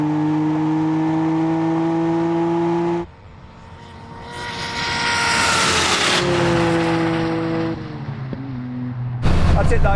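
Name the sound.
drag racing cars accelerating off the line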